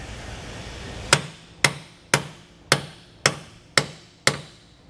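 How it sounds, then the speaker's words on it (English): Steel hammer driving a bolt home during a Roadmaster Comfort Ride suspension installation on a 2020 Grand Design Momentum fifth-wheel trailer, seven sharp metallic strikes at a steady rhythm, close and clear over quiet shop background. "so we're going to take our hammer."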